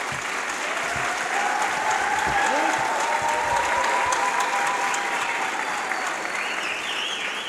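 A political meeting audience applauds delegation members as they stand, steady dense clapping throughout with a faint crowd murmur and a voice speaking over it.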